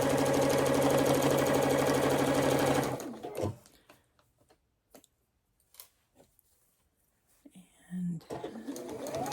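A sewing machine stitches along blue guide lines in a steady, fast whir for the first three seconds, then stops, leaving faint handling noises before a brief restart near the end.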